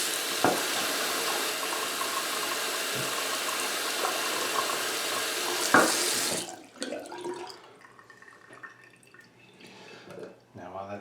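Cold water gushing from a tap into a sink, a loud steady splashing rush for about six seconds that cuts off abruptly, followed by faint drips and handling noises.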